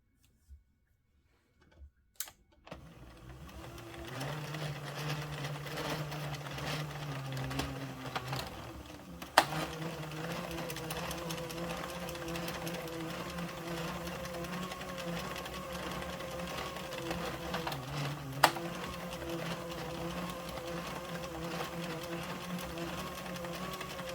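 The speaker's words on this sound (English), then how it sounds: "Tension's a bit tight, so let's see if we can pull a little bit more out of the center here." An Addi 46 knitting machine knits Lion Brand Chainette yarn with a steady, continuous mechanical whir and clatter that runs throughout, marked by a few sharp clicks and knocks near the start and in the middle.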